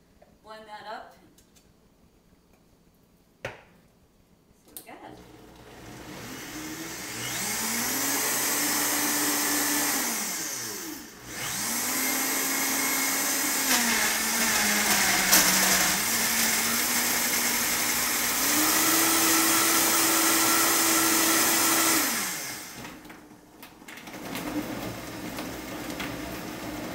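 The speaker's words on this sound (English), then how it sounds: "a cup of water and blend that up." A countertop blender whirs through a purple banana berry smoothie with frozen fruit and water, starting after a few seconds of quiet handling, running in loud steady bursts with pitch shifts, then stopping near the end while a voice talks.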